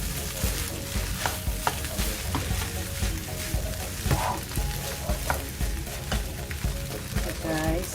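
Corned beef fried rice with egg stirred in a hot pan, steady sizzling with repeated scraping and clanks of a spatula, close and continuous.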